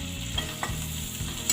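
Green chili and a little ginger fry and get stirred in a pan for pav bhaji, with a steady sizzle broken by several sharp spoon clinks and scrapes at irregular intervals.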